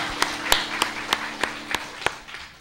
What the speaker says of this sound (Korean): 하나님께 영광의 박수를 올려드립시다.